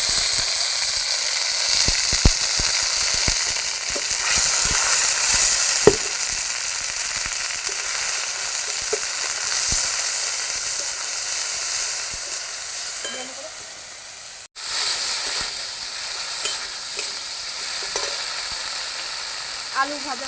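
Ground spice paste fries in hot oil in a kadai wok with a loud, constant crackling sizzle and scattered scraping stirs, interrupted by a momentary drop before the frying resumes.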